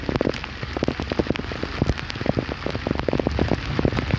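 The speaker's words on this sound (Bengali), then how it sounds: "প্রচণ্ড পরিমাণে বৃষ্টি, পুরো সব ঝাপসা হয়ে গেছে" Heavy rain pours onto a road where water is already pooling, a dense, steady roar of drops with sharper splashes scattered throughout, loud and close with no voices.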